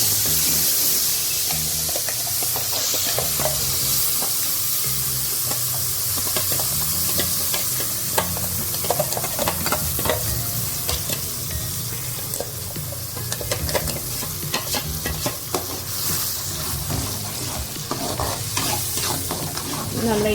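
Ground spice paste fries in hot oil with cloves in a pan, giving a continuous close sizzle and hiss broken by repeated scraping stirs of a spoon, with no talking.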